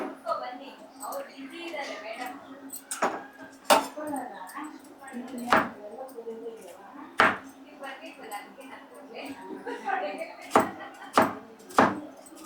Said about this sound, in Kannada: ಚಿಕ್ಕ ಚಿಕ್ಕದಾಗಿ ಕಟ್ ಮಾಡ್ಕೊಳ್ಳಿ ಹಾಗಲಕಾಯಿ.